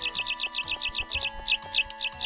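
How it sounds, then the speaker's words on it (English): Birds chirp in the Harvest Moon 64 video game, a loud, rapid series of repeated high tweets over a soft, steady musical backing, with no talking. "like the random wildlife with the birds and the squirrels and stuff"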